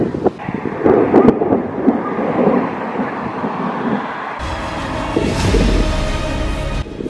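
Muffled, dull thunder from an approaching storm, a long low rolling rumble that swells and persists for several seconds, with a steady hiss of rain or wind underneath and no talking.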